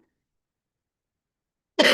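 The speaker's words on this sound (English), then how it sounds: "I apologize for this little cough that just come on me" A single short, sharp cough from a woman, close and loud, bursting out after near silence at the very end.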